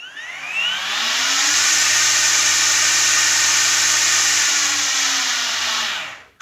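A Makita DUR368L cordless brush cutter runs at a steady high-pitched whine, loud and close, then its electronic brake drops the motor pitch and it winds down to a stop near the end.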